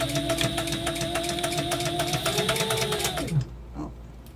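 A sewing machine stitching fabric runs in a fast, even mechanical whir with a rapid needle rhythm, close and loud, then stops abruptly near the end, leaving a brief soft clunk.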